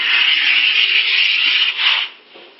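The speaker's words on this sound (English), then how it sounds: "Okay, our universal iron and wax is dried and cooled down. Next step, might as well, we scrape it." Cooled universal iron-on wax scraped off a ski base, a loud, close, continuous rasping stroke lasting about two seconds before it eases off, with no talking.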